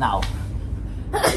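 A single sharp, close sneeze, preceded by a brief gasping intake, is heard on a train, with a short spoken word following it.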